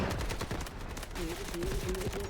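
Bursts of AKM assault rifle gunfire in a first-person shooter game, a rapid volley emptying about half a magazine, loud and close, with game noise and a tonal sound running alongside.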